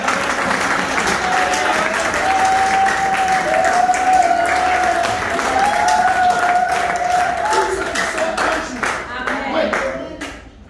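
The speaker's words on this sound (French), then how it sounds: "Est-ce qu'on peut acclamer le Seigneur?" A church congregation bursts into sustained applause to acclaim the Lord, dense steady clapping with cheers and a raised voice singing over it, tapering off at the end.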